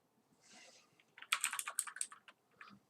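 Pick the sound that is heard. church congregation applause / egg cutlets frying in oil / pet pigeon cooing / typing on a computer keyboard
typing on a computer keyboard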